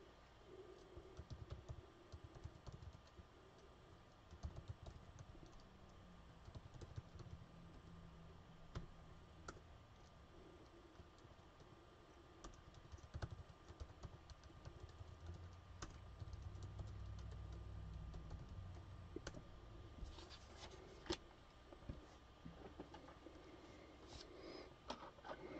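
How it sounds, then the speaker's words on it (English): Keys tap on a computer keyboard in faint, scattered bursts, up close but quiet, with soft rustling and handling noises in between. "I'm going to type my Venmo into the chat."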